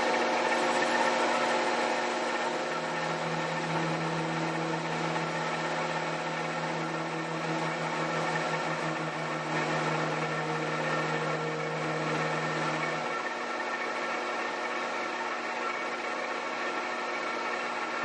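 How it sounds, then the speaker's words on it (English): A sharpened carbide cutter machines an engine cylinder head, producing a steady, continuous grinding whir with a sustained low tone, loud and close, running alone for most of the stretch before the tone drops away. "That sharpened carbide is cutting through there like it was butter."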